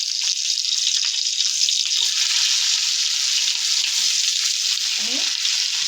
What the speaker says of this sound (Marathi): आपल्याला टोमॅटो शिजवून द्यायचे